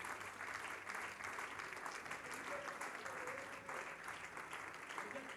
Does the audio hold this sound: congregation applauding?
yes